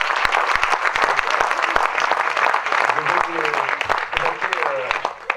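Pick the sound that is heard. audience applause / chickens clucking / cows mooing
audience applause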